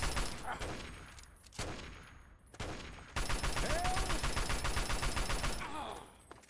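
Gunfire in Fallout 3: a few sharp separate shots with ringing tails, then a sustained rapid burst of automatic fire, loud and close, with some game sound underneath.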